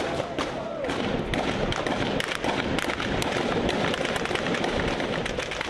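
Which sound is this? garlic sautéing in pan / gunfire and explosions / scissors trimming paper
gunfire and explosions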